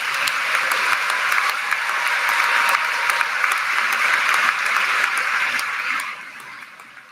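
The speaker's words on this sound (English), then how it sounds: "Will our magna cum laude honor students please stand so we can give you a round of applause?" A large graduation crowd applauds honor students at a high school ceremony, steady dense clapping filling the space for several seconds before tapering off toward the end.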